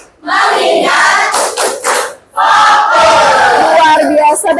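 A classroom of students claps and shouts together in a rhythmic clap chant during a lesson, loud and close, in bursts of group voices and claps with a short pause between.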